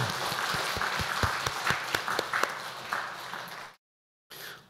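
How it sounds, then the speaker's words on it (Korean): A church congregation claps in applause during an afternoon worship service, a dense, fairly loud patter with sharper individual claps. It runs for several seconds, then cuts to silence and resumes briefly. "큰 박수로 하나님께 영광 올려드리겠습니다"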